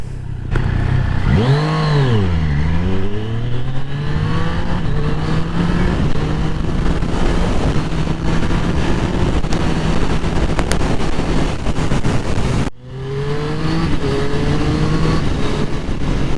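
A Triumph Street Triple 765 RS motorcycle pulls away hard from a green light, its engine rising and falling through gear changes and then holding a steady loud drone. Heavy wind rush runs throughout, and no one speaks.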